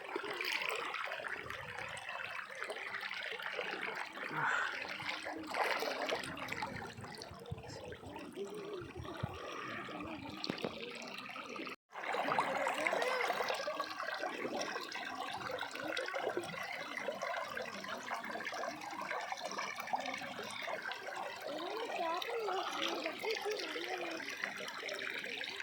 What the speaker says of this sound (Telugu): నీళ్ళు గలగలగలమ నీళ్ళు సౌండ్